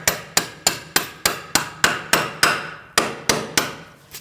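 Bolts on a 2008-2014 Mercedes-Benz C300 3.0L V6 front axle being driven out with a punch and hammer: about twelve sharp metallic strikes in a steady rhythm, close and loud, with no talking.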